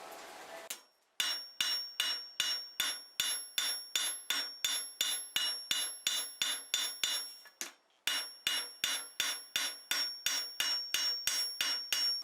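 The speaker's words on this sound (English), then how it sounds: "So I went to my second hammer, which is my Farrier's rounding hammer, and just pulled out the material" Steady, rhythmic ringing blows of a farrier's rounding hammer forging iron on an anvil, about two strikes per second, with one short pause partway through.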